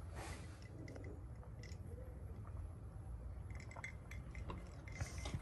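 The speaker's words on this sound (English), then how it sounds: "Let's have a sip of water." Someone takes a drink of water, with quiet, close wet sips and small liquid sounds over a soft background hum and no talking.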